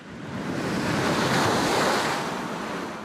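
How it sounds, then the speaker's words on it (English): Huge storm waves crash along the Jordan River shore on southern Vancouver Island, a loud, continuous roar of surf mixed with strong gusting wind buffeting the microphone. "Huge waves stack up along the Jordan River shore, flooding the West Coast Road"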